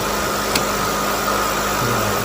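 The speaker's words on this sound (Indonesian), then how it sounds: "Sekarang kita mau menyalakan motor ujinya." An electric AC test motor on a speed-control test bench runs with a loud, steady hum and a constant tonal whine. A lower tone joins in near the end, and there is no talk.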